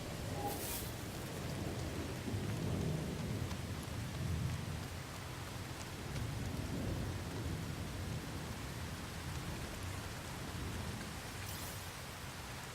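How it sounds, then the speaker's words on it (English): Toxic rainstorm in the video game No Man's Sky: steady hiss of rain with low rumbling thunder rolling underneath, constant and fairly soft throughout. "Weather warning. Incoming storm. Ah, toxic rainstorm approaching."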